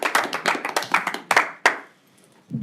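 Council members at a regional council meeting break into a short burst of hand clapping, a quick patter of claps close by that stops after about two seconds, leaving near silence.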